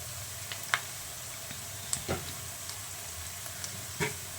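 Ginger garlic paste frying in oil in a pan, a soft continuous sizzle with a few faint clicks of stirring scattered throughout, heard quietly and close.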